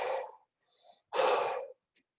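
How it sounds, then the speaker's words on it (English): Heavy breaths are pushed out through a gas mask in two strong, hissing bursts, with a softer breath between them and a faint click at the end, close and otherwise quiet. "you breathe out with this."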